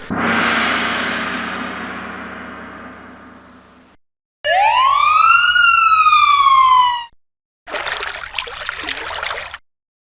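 A rising and falling electronic siren wails for a few seconds, clean and synthetic, between a fading chime and a burst of trickling water.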